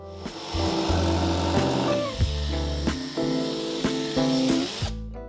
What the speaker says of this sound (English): Let's switch to the jigsaw